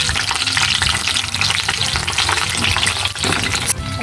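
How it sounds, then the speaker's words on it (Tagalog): Eggplant fries loudly in a pan, a dense, close, continuous sizzle and crackle that holds steady throughout, with faint stirring knocks and no voices. "magsisimula na po tayo magluto nitong talong po. Ayan, ilagay po natin ito sa kawali"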